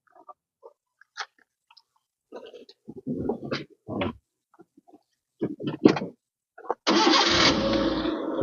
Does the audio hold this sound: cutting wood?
no